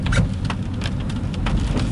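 Steady rain pours down outdoors on a wet night, a dense continuous hiss of drops on surfaces with no one speaking.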